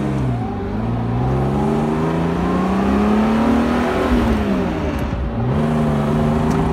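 A 1970 Mercedes-Benz 280SL Pagoda driving down the road, its engine droning loud and steady from inside the car, pitch rising and easing with gear changes over constant road and wind noise.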